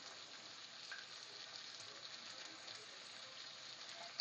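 Chopped onions with salt frying in a pan give a steady, soft sizzle and crackle that runs evenly throughout, fairly quiet and with no voices over it.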